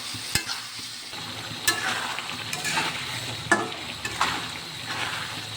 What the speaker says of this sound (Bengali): এবার আলুটা ভালো করে কষে নেব।